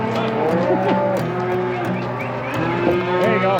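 A herd of cattle on a drive through wild mountains moos continuously, many overlapping low bellows close by and loud, forming a constant chorus with some wavering calls rising above it.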